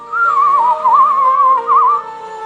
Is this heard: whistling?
yes